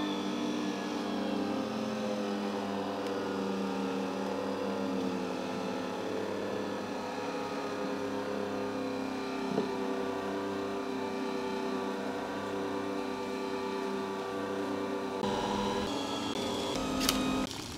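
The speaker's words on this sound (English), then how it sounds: "I think pasta, self-made fresh pasta with my favorite machine." A home electric pasta machine making fresh pasta runs with a steady motor hum and whine that holds level for the whole stretch, with a small change in tone near the end.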